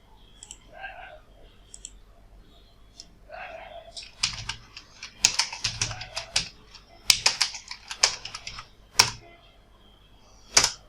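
Keys clatter on a computer keyboard as a folder name is typed, a quick run of close, crisp clicks in uneven bursts, with a few soft mouth sounds near the start.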